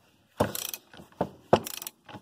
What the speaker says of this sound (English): that's all you get to see, the ratchet going that way